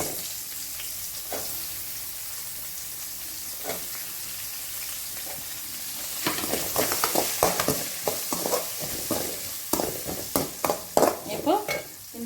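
Chopped onions go into hot oil with popped mustard seeds and curry leaves, sizzling steadily up close before a spoon scrapes and stirs the pan in quick, repeated strokes.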